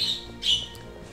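A pet bird, originally someone's sister's and restless enough to chew at its perch, lets out two short, shrill squawks, a sharp one at the start and a louder one a moment later, with quieter room noise between.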